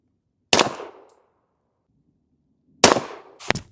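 Three sharp, loud shots from a Ruger LC Carbine firing .45 ACP rounds outdoors: one single shot, a pause of about two seconds, then two more in quick succession, each with a short decaying tail.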